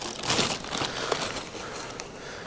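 Big plastic bag crinkling and rustling around a Hercules 8-inch bench grinder from Harbor Freight during unboxing, close, irregular crackly bursts.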